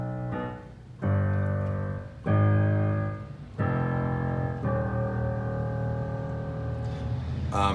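Piano plays a short descending phrase from a tutorial, four distinct sustained notes struck one after another, the last held and ringing out, clear and close with no talking.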